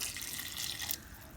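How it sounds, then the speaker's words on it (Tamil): Water pours into a pot of black chana dal curry, making a steady close hiss of liquid that stops abruptly near the end, with no talking. "நூறு எம்எல் வந்து நார்மல் தண்ணியானது இப்போ இதோடு சேர்த்துக்கிறேன்"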